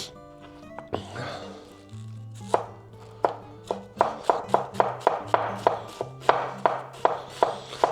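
A sharp knife finely shreds cabbage on a board, starting with a few scattered cuts and settling into a fast, even rhythm of crisp, close thuds.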